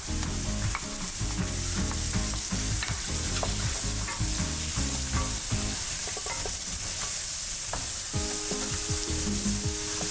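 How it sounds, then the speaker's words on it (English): Chopped carrots, onions and celery sizzle and fry loudly in a pot with mushrooms, with steady crackling and stirring scrapes throughout, close up and without talk. "we're going to add in all those carrots, onions, and celery that we chopped up earlier"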